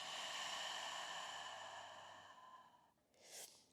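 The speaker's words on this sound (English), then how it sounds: "Open mouth, exhale, breathe out." A long open-mouth exhale during a yoga session, a breathy rush of air that slowly fades over a few seconds, followed by a brief, softer puff of breath near the end, close and quiet.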